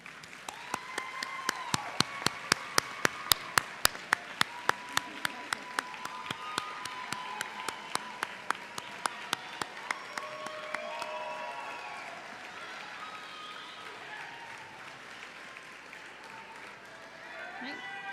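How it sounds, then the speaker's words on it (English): A large crowd at a university commencement ceremony gives a standing round of applause, a broad sustained roar of clapping with sharp, regular thumps standing out in the first half, then fading into murmuring as voices talk over it. "I would like for the graduates to join me in a standing round of applause to thank your families"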